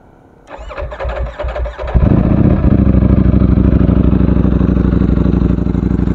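A Ducati Streetfighter V4S motorcycle with its dry clutch cranks over with a brief starter whir, then fires into a loud, close, steady idle.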